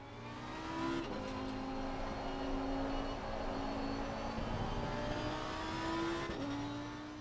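A 2019 Lamborghini Huracan GT3 Evo race car in the Assetto Corsa Competizione racing game roars steadily with a high, sustained engine note, shifting pitch as it revs up and changes gear, with no talk.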